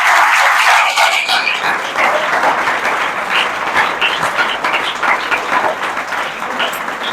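A church congregation in Bahadurgarh, Haryana claps together in a loud, brisk burst that settles into steady, rhythmic clapping lasting several seconds.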